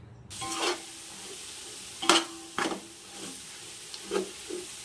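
Green chili and mint paste sautés in a pan for biryani, a soft sizzle broken by several sharp spatula scrapes and stirring knocks against the metal.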